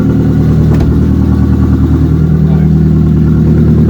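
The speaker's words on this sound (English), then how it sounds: "Let's have a listen to the back, see what the exhaust sounds like." ABT Audi TT engine running with exhaust leaking from a broken downpipe: a loud, close, rough clattering drone with a steady low pulse and a slight rise in pitch partway through.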